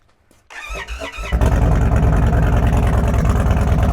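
A custom Indian Sport Chief motorcycle engine cranks briefly, fires up and settles into a loud, steady rumbling idle with throttle revs, close by and alone.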